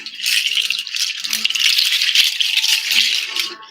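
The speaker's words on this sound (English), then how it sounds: "I knew I was going to need my rattles today." Handheld rattles are shaken vigorously and continuously during an energy healing session, a loud, close, crisp swishing clatter with irregular pulses and no talking.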